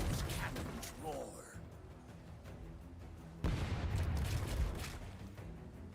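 Ship cannons in the naval video game Rogue Waters let out heavy booming blasts, one after another with rumbling tails, loud and close, while voices talk in the background.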